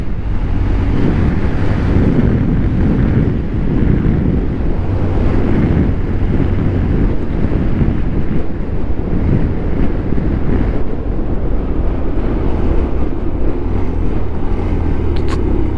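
Constant loud wind roar buffets the microphone during a motorcycle ride through the mountains of Ladakh, a dense, steady rushing noise with no break for the whole stretch.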